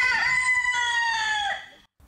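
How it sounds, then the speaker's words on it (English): A chicken in a Leon Schuster prank advert lets out a loud, drawn-out rooster-like crow and cluck lasting about a second and a half, then breaks off into near silence. "we might remember that chicken prank which appeared in Oh Shucks, It's Schuster."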